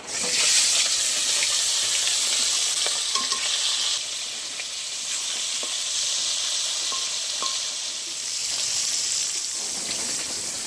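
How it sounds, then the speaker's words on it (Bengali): Hilsa fish pieces fry in oil, giving a dense, steady sizzle and crackle close by with a few light stirring clinks, sustained for about ten seconds with no talking. "বাকিগুলো একই তেলে ভেজে নেব।"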